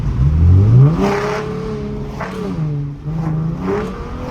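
A V6 Ford Mustang engine revs loudly and close, its pitch sweeping up and then settling into a steady drone with further swells, ringing with a strong echo around it.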